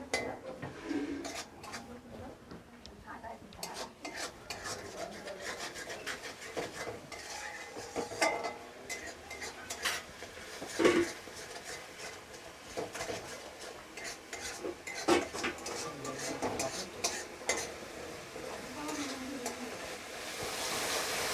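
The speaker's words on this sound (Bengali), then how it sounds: "দিয়ে মশলাটাকে একটু ভালো করে কষাবো" Spice masala for a cauliflower and potato curry being stirred and fried in a pan, with repeated metal utensil scrapes and clinks over a soft sizzle, fairly quiet and close.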